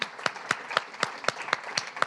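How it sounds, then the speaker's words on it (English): An audience claps after a literary reading by the poet, a steady round of applause with distinct, rhythmic claps landing about four times a second, moderately close and alone without talk. "A big round of applause."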